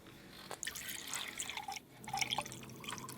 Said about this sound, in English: And then you add a splash of grenadine.